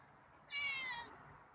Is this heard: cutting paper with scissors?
no